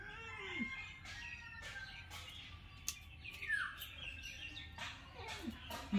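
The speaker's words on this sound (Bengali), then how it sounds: "দেখো 3 নম্বর বিড়াল আসছে কিন্তু।" A cat meows several times at moderate distance, short rising and falling cries spread across a quiet scene with bird chirps in the background.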